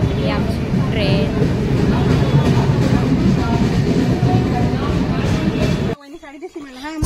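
A loud, close train rumble with clattering at Mumbai before departure, with people talking over it; the sound cuts off abruptly near the end.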